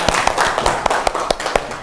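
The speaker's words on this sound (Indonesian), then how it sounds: "Tepuk tangan dulu untuk kita semua" A group of pupils claps hands together in a classroom, a quick run of sharp, fairly loud claps in a loose, uneven rhythm, with no talking over them.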